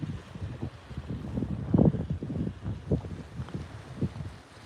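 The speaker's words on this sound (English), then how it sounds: "It's kind of windy." Gusty wind buffets the microphone in uneven low rumbling bursts, faint and outdoors at a national park in Maine, with no one speaking.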